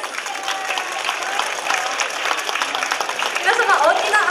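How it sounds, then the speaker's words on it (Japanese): Applause rises from an outdoor crowd at a Chinese face-changing show on the eve of the Nagasaki Lantern Festival at the Confucius Shrine, dense and steady, with scattered voices growing louder toward the end. "皆様、大きな拍手をお願いいたします"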